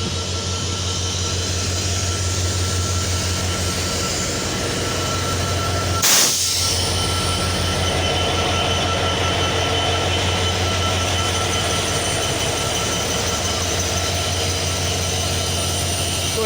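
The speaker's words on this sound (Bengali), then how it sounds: "এখন দুইটি ট্রেন দুই দিকে আউট করবে" The Titumir Express, hauled by locomotive 6620, and the Nilsagar Express depart Parbatipur Junction in opposite directions, rumbling steadily with a low engine drone and rolling rail noise, with a brief sharp clatter or horn-like burst partway through.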